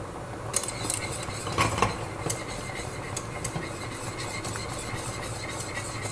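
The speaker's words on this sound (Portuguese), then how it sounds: "Vou mexer mais um pouquinho aqui só para ele continuar mesclando os sabores." A utensil stirs fettuccine sauce in a pan, giving soft continuous scraping with a few light metallic clinks early on, close and steady with no talking.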